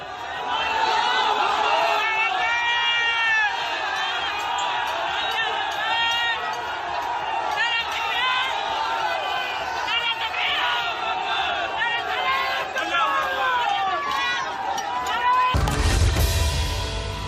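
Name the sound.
noise of an agitated crowd during riot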